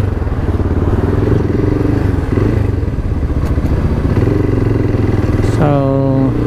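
Motorcycle engines idling and revving in a motorcycle parking area at a mall, a loud, steady close-up rumble with clattering, and a rising engine rev near the end.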